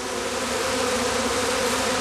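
Bees swarming around a straw bee skep, a dense continuous buzzing drone that stays steady and fairly loud throughout, with no voices.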